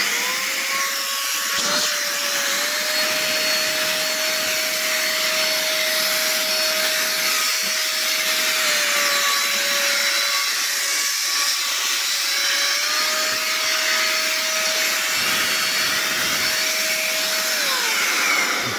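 A powerful electric blower roars steadily and loudly with a constant whine, running without pause throughout.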